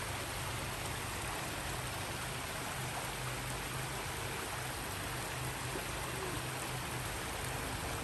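A spring-fed stream flows in a steady, even rush that continues without a break, with no voices; at McConnell Springs in Lexington, Kentucky.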